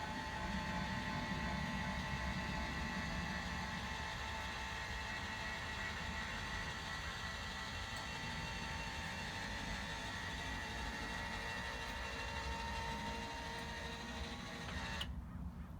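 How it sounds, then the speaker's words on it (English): A Bruno Chariot scooter lift raises its loaded platform in a steady, continuous mechanical drone, heard close and alone for about fifteen seconds before stopping abruptly at the end. "With the scooter platform loaded up, you hit the up button"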